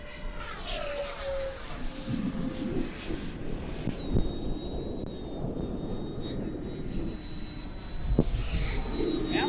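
A Freewing F-15 model jet flying on a gusty, windy day, its ducted-fan whine holding a high steady pitch that shifts as it passes, over rushing wind noise throughout.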